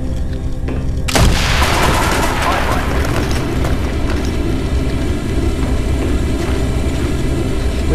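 A big explosion blasts a hole in a wall in the Black Ops video game on Wii: a sudden loud boom followed by a long, dense roar of rumbling debris and battle noise.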